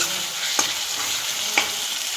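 A tomato goes into a frying pan with grated coconut and is stirred, a steady sizzle broken by two sharp scrape-and-clink strokes of a spoon.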